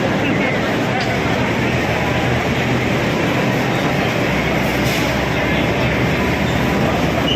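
A Delhi Metro train rumbles loudly and continuously at a packed evening rush-hour station, its steady roar mixed with a crowd's voices.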